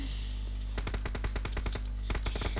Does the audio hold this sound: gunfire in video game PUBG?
yes